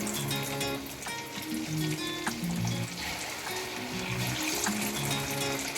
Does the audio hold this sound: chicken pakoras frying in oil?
yes